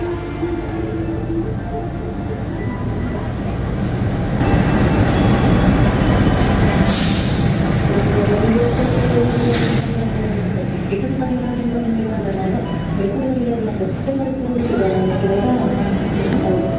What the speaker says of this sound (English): Okay, so the train's just coming now.